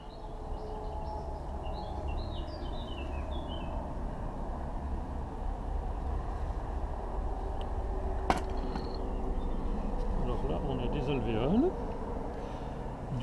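Honeybees humming steadily while a young hive, started from a captured swarm twenty days earlier, is opened for inspection outdoors, with a constant low drone, faint bird chirps and a brief sharp knock partway through.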